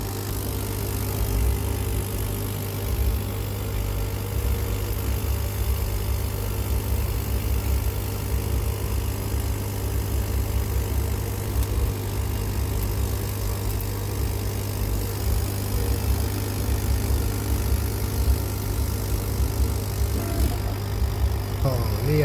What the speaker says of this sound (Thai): ตัดของแท้แล้วโดยเจ้าเครื่องเลเซอร์ของเรานะครับ